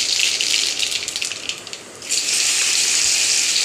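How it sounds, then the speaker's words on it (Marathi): Cumin and mustard seeds sizzle in hot oil in a kadhai, a loud, steady crackling hiss that dips briefly midway and then swells back up, with no talking. "प्रथम इथं कढईमध्ये तेल गरम करायला ठेवलं आहे. त्यामध्ये जिरे, मोहऱ्या,"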